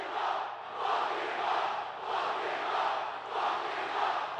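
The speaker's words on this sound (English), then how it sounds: "Listen to the crowd." A large live crowd at an independent pro wrestling event in Farmington, New Mexico roars and cheers in steady swelling waves, heard from within the arena with no clear voices standing out.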